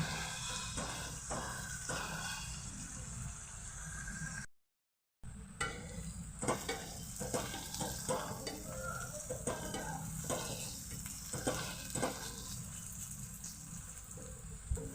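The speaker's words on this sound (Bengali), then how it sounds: "এবার পেঁয়াজের সাথেই শুকনো লঙ্কাটাকেও ভেজে নেব" Sliced onions and dried red chillies fry in hot oil, a soft continuous sizzle broken by repeated stirring scrapes of a spoon in the pan, quiet and close, with a brief dropout midway.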